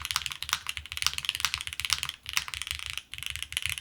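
Typing on a Neo65 keyboard fitted with Milky Yellow switches, a steady run of close, crisp keystrokes with brief pauses, heard alone without talk.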